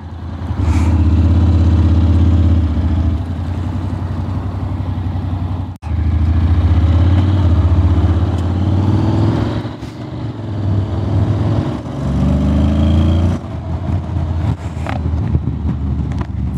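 A Honda X-ADV 750 motorcycle engine starts and runs steadily near the microphone, a loud continuous low rumble with a brief dip partway through and gentle changes in revs, heard alone on a windy day.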